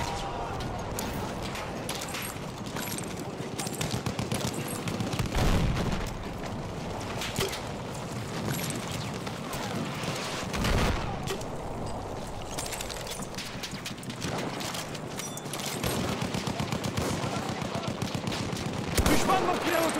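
Enemy machine gun fire rattles in dense, rapid bursts that run almost continuously, loud and close, with a few heavier blasts mixed in and voices faintly underneath.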